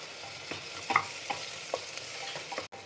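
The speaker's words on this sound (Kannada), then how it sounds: "ಚಂದ ತಿರು ಪೂರ್ಣ ಫ್ರೈ ಆಗ್ಬೇಕು ಚಂದಂಗದ" Chopped onions and curry leaves frying in a pan for pav bhaji, a soft continuous sizzle broken by several spoon-stirring clinks and scrapes at an irregular pace, close and fairly quiet.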